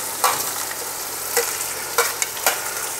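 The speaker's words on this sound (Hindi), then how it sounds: "आइए पहले हम इसी में सब्ज़ी डालते हैं" Vegetables go into a pot of water heating on a gas stove: a constant close hiss with a few sharp clatters and splashes as pieces drop in, no voices.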